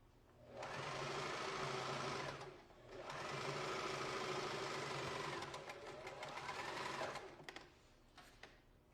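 Sewing machine stitching the two alpaca lining pieces of a fur jacket together, quiet rapid whirring runs in three bursts separated by brief pauses, no talking.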